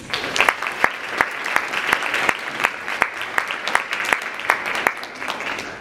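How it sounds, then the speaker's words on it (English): A university NAACP chapter panel audience gives a warm round of applause to its panelists, a loud, sustained wash of clapping with a few sharp, close hand claps standing out regularly throughout. "please give a warm round of applause to all of our panelists"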